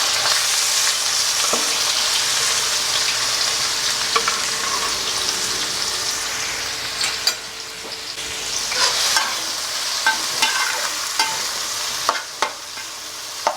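Onions frying in hot oil with popping mustard seeds in a pan, a loud continuous sizzle broken by sharp crackles and stirring scrapes, with no talk.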